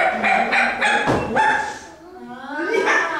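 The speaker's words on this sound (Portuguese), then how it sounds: "Sobrou o cachorro." A dog barks and yips in short bursts, ending in a drawn-out whine, with a person talking at the same time.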